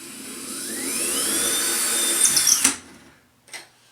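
A drill bores through a wall with a rising high whine, punches through with a clunk and falls silent, followed by a short knock.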